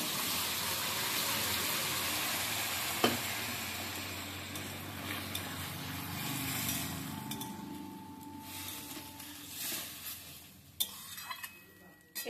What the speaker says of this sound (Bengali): এবার আমি সিদ্ধ করা আলু দিয়ে দিচ্ছি।